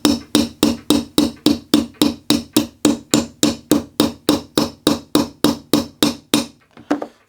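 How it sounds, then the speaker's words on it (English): A small hammer taps a pivot pin into a Haenel Model 303 break-barrel spring-piston air rifle: about twenty crisp, evenly spaced metallic taps close up, ending with a couple of softer, lighter blows. "getting that in there and tapping our pin back in. It might even get away with a little tappy hammer."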